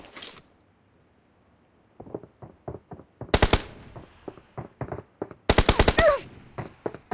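Automatic gunfire in a mobile shooter game: bursts of rapid shots start after a quiet opening, with loud dense volleys at two points and scattered single shots between, close and prominent with no talking.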